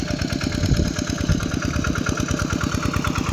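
A four-gear walking tractor ploughing a rice field chugs loudly and close, its engine firing in a rapid, steady rhythmic knock with no voices.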